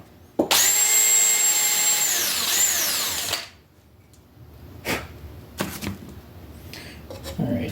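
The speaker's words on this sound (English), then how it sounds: "Alright, so there's my hole pre-drilled." A drill pre-drills a hole during a DIY river tube power motor build, whining loudly for about three seconds before winding down, followed by scattered knocks and handling noises.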